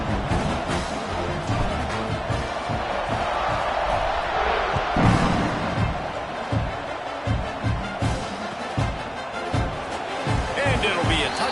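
A big stadium crowd at an Oklahoma football game rumbles and cheers ahead of the kickoff, a broad sustained roar with thumping surges, while a commentator talks over it.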